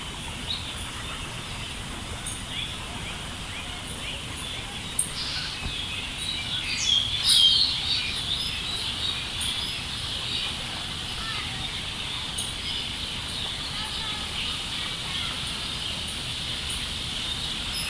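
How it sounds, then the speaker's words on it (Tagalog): Birds chirp faintly and intermittently among the trees of Kowloon Park, Hong Kong, with a brief busier flurry of calls partway through, set against a steady hiss of city and park ambience. "Ayan ang mga ibon,"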